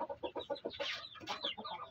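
Chickens cluck softly inside a dim coop, a short run of quick, close clucks and murmurs.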